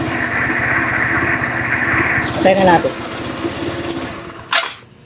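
A motorcycle engine runs at a steady idle while people talk over it, then a brief rising rev and a couple of sharp clicks before it fades out.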